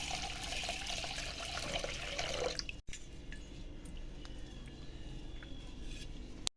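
Rice grains being rinsed in a bowl of water before boiling for Gujarati wedding-style rice, a steady close wash of swishing, trickling water with a brief break partway through, no voices.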